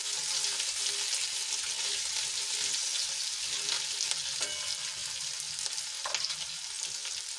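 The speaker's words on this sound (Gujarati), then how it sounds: "બધું સરસ રીતે મિક્સ કરી લઈશું" Garlic cloves and chunks of ginger sizzle steadily in a pan of hot oil, with a spatula scraping and stirring them now and then; the frying hiss is constant and close, with no voices.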